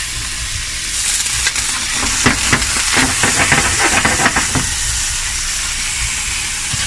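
Onions fry in olive oil in a pan, a continuous loud sizzle and hiss, broken in the middle by bursts of crackling and stirring scrapes before it settles back into an even frying noise.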